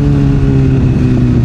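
Kawasaki ZX636R sport motorcycle engine running at close range, a loud steady drone with a strong, even tone and no voices, held without much change in pitch.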